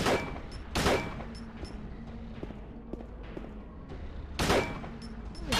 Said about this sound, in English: Shoot him in the head regardless, looks like.